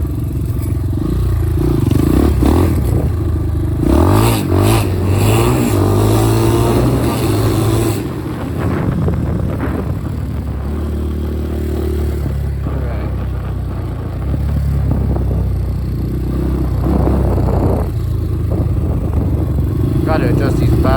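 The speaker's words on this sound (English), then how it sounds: "Alright, now we'll switch to the quad." Yamaha Blaster quad ATV engine revving on a trail, loud and close, with rising and falling revs, rattly clatter and scraping, and someone talking intermittently over it.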